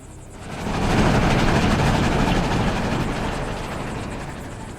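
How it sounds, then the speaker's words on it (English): A heavy train roars past close by on tracks in Pretoria at night, a loud, dense rumble swelling quickly and then slowly easing off. "As a train thunders by"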